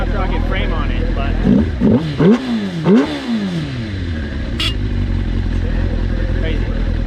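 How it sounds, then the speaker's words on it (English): An 80cc four-wheeler built on a sport-bike frame revs in a series of rising and falling bursts, close and loud, then settles into a steady engine drone with people talking nearby. "it's basically like an 80cc, like four-wheeler with a crotch rocket frame on it"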